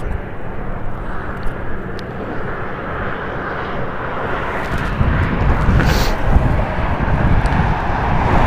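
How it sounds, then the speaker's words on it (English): A Southwest Airlines Boeing 737 on short final approach into Las Vegas Harry Reid International Airport gives a steady, loud jet roar that swells toward the end, heard outdoors with some wind. "short and final, we have Southwest Airlines 1041 coming in from Los Angeles, the Boeing 737"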